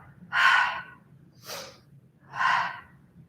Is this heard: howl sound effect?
no